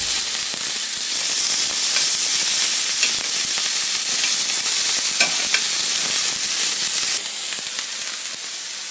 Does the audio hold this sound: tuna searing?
yes